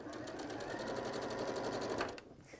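A sewing machine runs steadily, stitching through thick, built-up layers of a pleated cushion, its needle hammering in a fast, even rhythm before it stops abruptly near the end.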